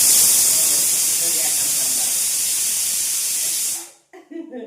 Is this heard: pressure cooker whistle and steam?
yes